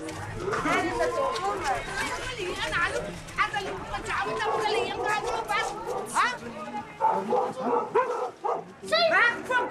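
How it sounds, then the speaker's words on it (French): A dog barks and yips repeatedly amid a crowd of people talking and shouting outdoors in a gang-occupied neighborhood, the barks partly buried under the voices. "Ferme-la, le chien!"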